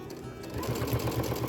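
Sewing machine stitching binding onto the back of a quilt, a steady rapid mechanical whir that starts after a brief pause and runs on evenly and close.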